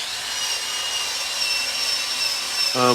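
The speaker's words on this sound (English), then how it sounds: "it might get a little loud here with the power tools" A continuous abrasive rasping of a power tool working on wood, steady and fairly loud close by, with a short tonal whine near the end.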